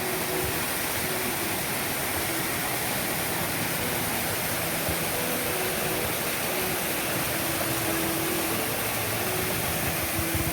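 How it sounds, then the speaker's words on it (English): Rushing water pours steadily at Castaigne Waterfall in St. Andrew, Grenada, a loud, continuous broadband roar that holds unbroken from start to finish with no voices. "Castine Waterfall, St. Andrew, Grenada."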